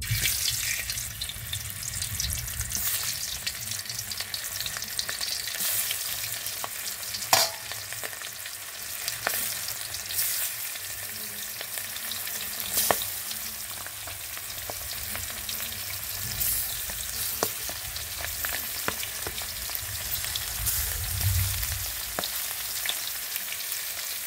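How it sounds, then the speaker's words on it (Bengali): Fish frying in a pan for a Bangladeshi home-cooked meal, a steady close crackling sizzle running throughout with a few sharp clinks of a utensil and faint water-like hiss, no talking. "মাছ আগে ভেজে নেব।"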